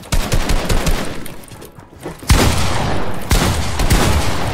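Gunfire in a trio arena shooter game, a dense burst of rapid shots up front, a brief lull, then two more sharp volleys with continued firing, loud and close with no talk.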